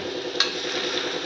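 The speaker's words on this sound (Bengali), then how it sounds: "আর এখানে কড়াই বসিয়েছি আলু বরবটি ভাজা।" Potatoes and green beans frying in a wok, a steady close sizzle with faint stirring and one brief clink of the spatula near the start, no voices.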